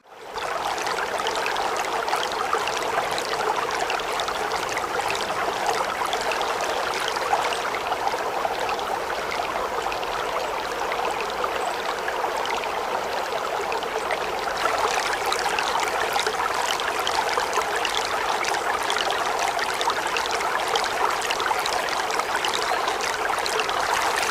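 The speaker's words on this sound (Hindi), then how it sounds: "इस शोर में जो है वही कांस्टेंट आवाज़ आ रही है कि एक मतलब पानी बह रहा है साइड से" Steady rushing river water flows continuously nearby, near Karlan Waterfall by Harnoi Lake, Abbottabad, a constant broadband wash with no voices, loud and unbroken throughout.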